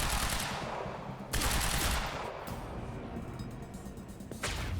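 Gunfire in the game Quantum Break, with rapid, loud bursts of automatic shots and sharp cracks that come in clusters close by, with a few heavier hits among them and no voices.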